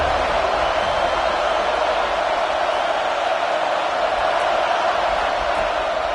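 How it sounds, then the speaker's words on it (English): Home crowd at a college football game between ASU and FSU, a loud, steady stadium roar of cheering that fills the whole clip with no break. "how nice is it to have the home crowd going absolutely bananas"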